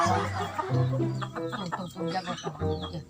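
A rooster clucks and warbles close by in a series of throaty calls, with faint background chatter.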